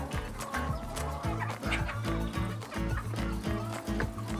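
Farm chickens cluck in short, repeated bursts, close and fairly quiet, with steady low background noise and no clear speech.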